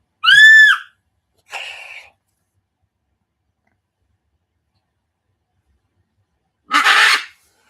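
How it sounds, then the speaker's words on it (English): A pet bird screams indoors in three separate loud, shrill bursts, spaced well apart with silence in between, close to the microphone. "I had to bring the bird back in,"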